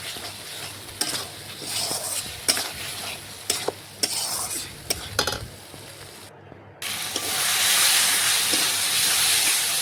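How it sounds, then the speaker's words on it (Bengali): Fried potatoes cook with spice masala in a mutton dish, a soft sizzle under sharp repeated scrapes and taps of a spoon stirring the pan, then a brief gap before a louder, steady steamy hiss. "আমি ভেজে রেখেছিলাম আলু, সেগুলো দিয়ে মশলার সাথে ভালোভাবে আবারও কিছুক্ষণ রান্না করে নিচ্ছি"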